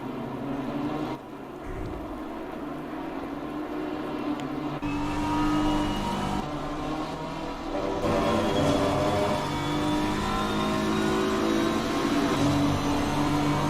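On-board sound from a race car in an endurance race at Barcelona: a steady, moderately loud engine drone with a rising whine, continuous for the whole stretch with no talk.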